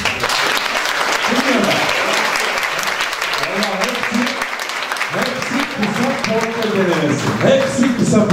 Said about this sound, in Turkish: kim yazdıysa onu bir alkışlar mıydı